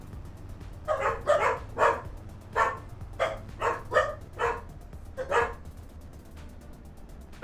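Dogs bark in Farming Simulator 25, giving a string of about ten sharp barks in an uneven rhythm over a low steady background hum, then quiet.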